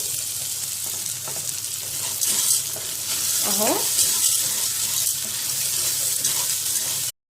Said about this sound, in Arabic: وهحط المكرونه وهبدأ احمر فيها، اقلب فيها كده على طول